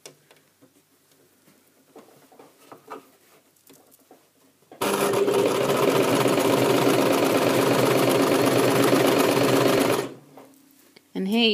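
A sewing machine stitches around the armhole of a tunic, running steadily and fast for about five seconds after a quiet stretch of handling noise, then stopping.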